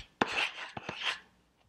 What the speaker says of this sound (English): So what I'm gonna do now is just take the chamfer and round it over with my sanding block.